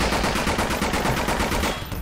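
Rapid submachine gun fire from an UMP-like weapon in the horror shooter Nightmare House 2, a steady burst of close, loud shots continuing for about two seconds before easing slightly at the end.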